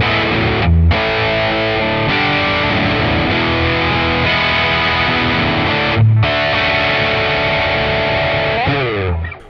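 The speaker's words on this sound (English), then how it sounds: "distortion sound." Electric guitar played through the distortion preset of a NUX Cerberus pedal, thick sustained distorted chords ringing loud with two short stops between phrases and a sliding note at the end.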